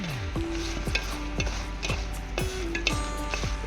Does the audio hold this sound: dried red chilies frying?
yes